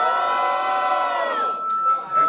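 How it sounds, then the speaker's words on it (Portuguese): Crowd at a Brazilian freestyle rap battle lets out a loud, sustained collective shout of cheering for about a second and a half, which then drops off into scattered fainter whoops. "Barulho, muito barulho para as rimas do Cássio"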